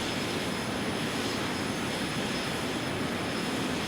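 Steady, loud airliner jet engine roar in Flight Simulator X while climbing after takeoff, a broad continuous rush with a high whine, unbroken throughout with no talking.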